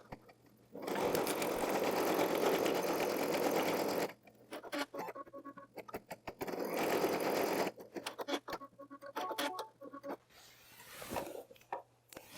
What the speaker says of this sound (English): we're ready to go to the machine and start sewing our first color change